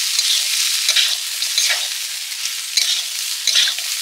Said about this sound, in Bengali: এবারে মুড়ো আর সবজিগুলো দিয়ে দিচ্ছি